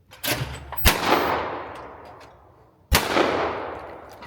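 Two loud shotgun blasts from an over/under at a clay shooting station, each a sharp report followed by a long rolling echo, the second coming about two seconds after the first.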